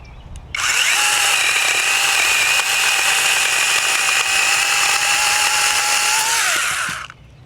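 A SEESII PS800 electric mini chainsaw, used handheld, cuts through a thick dead pine branch: a loud, steady high-pitched whine that starts abruptly, holds for about six seconds and then winds down, with no talking.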